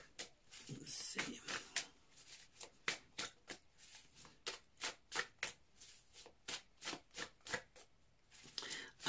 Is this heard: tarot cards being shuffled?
yes